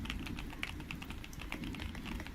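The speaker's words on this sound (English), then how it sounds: "I just want to do a typing test all the time with my new keyboard because it just sounds so lovely" Rapid, continuous clacking of keys on a new computer keyboard, fairly faint and steady throughout.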